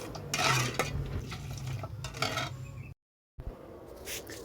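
Hot melted sugar syrup in a pot, stirred to cool it down for village-style oil pitha, with close clinks and scrapes of a utensil against the pot, a brief silent gap partway through, no talking.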